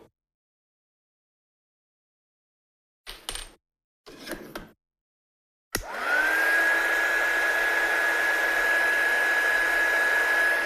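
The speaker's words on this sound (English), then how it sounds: "So let's heat set this one." A heat tool switched on to set sticky glue for foiling: a couple of short rustling handling sounds, then a sudden loud continuous blowing whir with a steady high whine that runs to the end.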